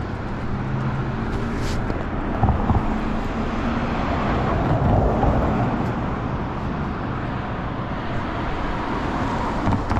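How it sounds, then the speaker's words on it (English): Steady roar of busy road traffic in all directions at an intersection, cars continually passing nearby with a constant engine and tyre rumble, heard from an e-bike rider waiting to turn. "Lots of traffic"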